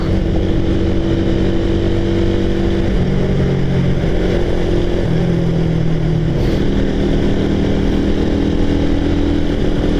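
A motorcycle runs at speed on Marcos Highway through smoke from fireworks. The engine drone is loud and close, and its pitch rises and falls steadily for the whole stretch.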